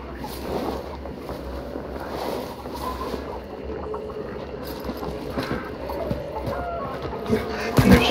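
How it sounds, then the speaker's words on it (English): In a video game, chickens cluck over a low, continuous ambient rumble, with faint scattered bird-like calls and a louder thump near the end. "And there's chickens"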